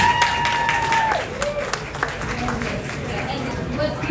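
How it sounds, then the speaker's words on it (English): Applause and crowd chatter from an audience at a female founders' panel during SXSW 2025, mixed with a rising tone and some talk, fairly close and moderately loud throughout. "Can we do one more round of applause"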